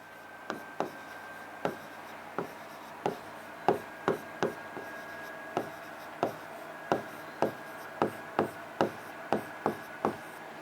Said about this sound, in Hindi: तो लिखेंगे मेयर और